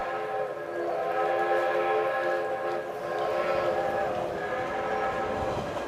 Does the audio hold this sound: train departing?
yes